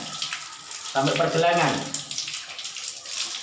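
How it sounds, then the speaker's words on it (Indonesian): A tap runs while hands are washed, a steady hiss of water with a brief splashing surge in the middle, a voice murmuring softly underneath. "Kemudian kita buka keran, bersihkan telapak tangan sampai pergelangan."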